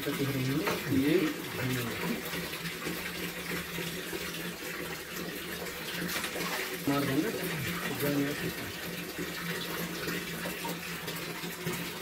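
Water being drawn out of a village well where cobras were found, a continuous rushing, splashing flow with people talking over it throughout.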